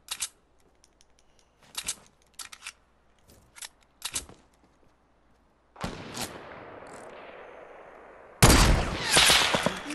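Gunshots in the video game Fortnite Battle Royale: several sharp, loud shots spaced apart early on, then denser bursts of gunfire with a noisy wash in the second half, ending in a loud close blast.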